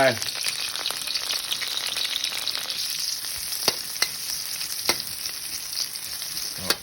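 Garlic and chili sizzle steadily in hot rice bran oil in a pan, a dense bright crackle with a few sharp pops and utensil clicks.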